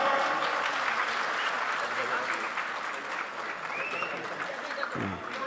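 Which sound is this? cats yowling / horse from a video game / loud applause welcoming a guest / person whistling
loud applause welcoming a guest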